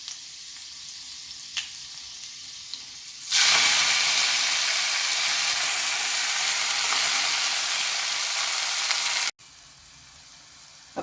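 Fenugreek leaves sautéing with pink-browned garlic in a pan give a loud, steady sizzle and hiss that starts abruptly, holds for about six seconds, then drops to a quieter fry.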